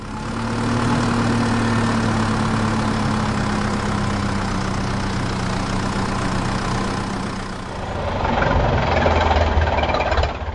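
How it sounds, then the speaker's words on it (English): A heavy tractor engine idles with a steady low rumble and vibration, then revs up and changes tone near the end. "Tractor."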